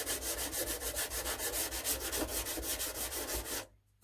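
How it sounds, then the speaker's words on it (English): Sandpaper rubs over a plastic part from a Titanic model kit in quick, regular back-and-forth strokes, close and steady, stopping abruptly near the end. "just use sandpaper on it, clean it up like that"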